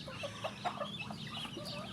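Chickens cluck softly while being fed in the morning, a close cluster of short, bright clucks in quick succession over a low background hum, with no voices.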